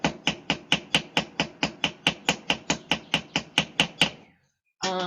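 Hammer striking a rivet in a riveting lesson: about eighteen crisp metallic taps in a fast, even rhythm, close and loud, then a brief silence before a ringing tone begins.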